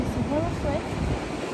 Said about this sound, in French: Là, on a vraiment juste le bruit des vagues.